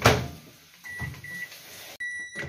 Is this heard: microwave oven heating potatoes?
yes